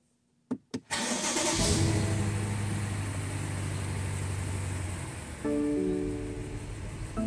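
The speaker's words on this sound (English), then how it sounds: "let's try running the engine" Two quick cranks, then a BMW N63 V8 engine with jammed VANOS catches on a cold start and roars to life, settling into a steady idle before a brief rise in revs.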